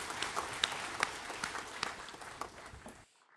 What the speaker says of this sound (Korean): 모든 영광의 박수를 하나님께 드리겠습니다